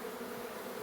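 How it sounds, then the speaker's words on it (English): Steady, dense buzzing of many honeybees from a large hive in a bedroom, a continuous close hum with no pauses. "And more bees on the window."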